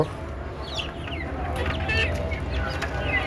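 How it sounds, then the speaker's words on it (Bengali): Native chickens on a rooftop coop cluck in repeated short calls at close range, mixed large and small birds, with a steady low background hum beneath them. "তো আমি ছাদে এভাবে দেশি মুরগি পালন করি।"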